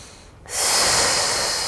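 A deep inhale during a prenatal yoga class, starting quiet and swelling into a loud, steady, close airy breath sound that holds for over a second, with no talking.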